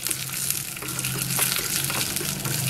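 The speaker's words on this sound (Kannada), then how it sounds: "ಅದಕ್ಕೆ ಗೋಡಂಬಿ ಮತ್ತು ದ್ರಾಕ್ಷಿ ಹಾಕ್ಕೊತಾ ಇದ್ದೀನಿ. ಇದನ್ನು ಹುರ್ಕೋಬೇಕು ಸ್ವಲ್ಪ ಹೊಂಬಣ್ಣ ಬರೋವರೆಗೂ" Cashews and raisins sizzle and crackle steadily in hot ghee, a close, continuous frying hiss with faint stirring, and no voices.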